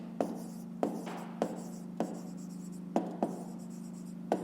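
Numbers being written by hand for a math exercise, quiet scratchy pen strokes and taps at an uneven rhythm over a constant low hum, close and faint with no talk.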